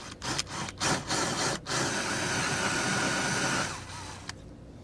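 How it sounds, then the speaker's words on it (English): A steady drilling whir runs close by for several seconds as a drill bores slowly through vinyl flooring, with a few brief breaks near the start before it winds down at the end. "Still drilling slow because I got to get through that vinyl flooring."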